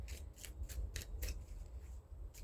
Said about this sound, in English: let's go ahead and get this nice and shuffled